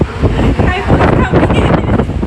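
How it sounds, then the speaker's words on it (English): A kitchen range hood fan running at strong suction makes a loud, close, continuous rush of air with a fluttering, wind-like roar. "You can see how much strong the suction power."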